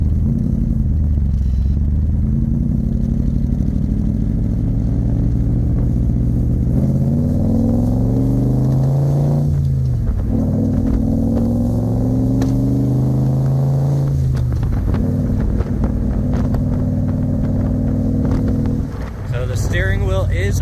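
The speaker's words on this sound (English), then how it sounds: "You can hear the exhaust kind of crackles." A 1965 Backdraft Racing Cobra Roadster RT4B GT Black Edition on a test drive, its engine rumbling and rising through gears with rough exhaust crackle, steady and close throughout, with a person talking over it.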